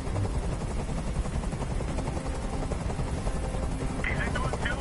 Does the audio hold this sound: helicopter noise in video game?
yes